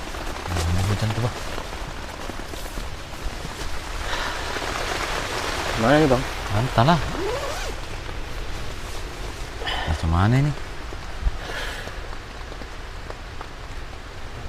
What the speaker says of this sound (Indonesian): Hujan angin teman-teman ya.